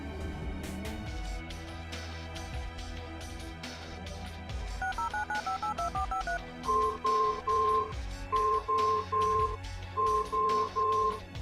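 A telephone number being dialed on a touch-tone keypad: a quick run of dual-tone beeps, then evenly spaced repeated beeps, loud and close over a busy background.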